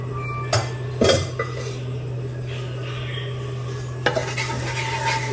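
A metal spoon scrapes and stirs sticky rice for sinukmani in a pot over a low steady hum, with a few louder clanks and scrapes against the pan.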